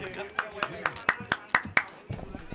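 Sparse hand claps ring out for batsman Jambo at a 40-plus cricket tournament in Panchgani, a quick run of sharp single claps under steady commentary.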